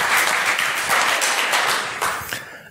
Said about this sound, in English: I heard someone wanted to applaud.